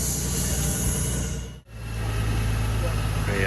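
A Honda Goldwing 1800cc engine idles steadily in a repair shop, a constant low rumble close by that cuts out for a brief instant midway and then resumes, with a voice talking over it.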